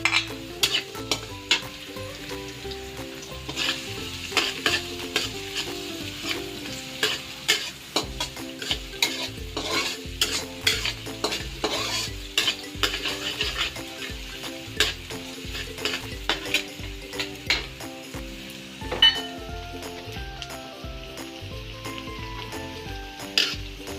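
Onion sizzles in a pan for bopis while a utensil stirs and scrapes it, a steady frying hiss broken by frequent clanking metal strokes against the pan, close and fairly loud.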